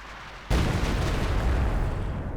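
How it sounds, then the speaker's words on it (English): A B4 howitzer fires in Company of Heroes 2 with one sudden, heavy boom that cuts in after a quiet moment and then rolls on as a loud, sustained rumble. "B4 shooting again."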